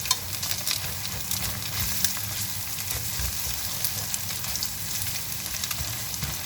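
Egg and oil sizzling in a pan for nasi goreng, a steady close frying crackle with occasional stirring scrapes throughout, no talking.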